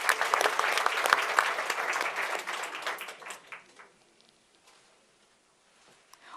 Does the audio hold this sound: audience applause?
yes